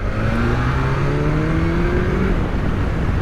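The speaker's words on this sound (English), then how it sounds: "Let's go down a couple of gears. Fourth gear, third gear, let's give that." A BMW S1000XR motorcycle, shifted down into third gear on a 60 road, pulls hard as its engine note climbs steadily in pitch, loud and close over constant wind rush.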